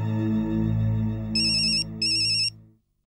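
A telephone ringtone sounds during an outgoing call in a Hindi TV sitcom, two short bright electronic ring bursts over a fading low musical tone, with no talk.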